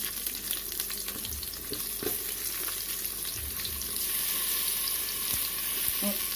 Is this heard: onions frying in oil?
yes